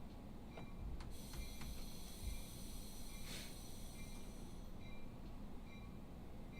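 Amtrak train departing in a train simulator game, a steady low rumble of rolling wheels and engine with a few high metallic squeals and clicks over it, no talk.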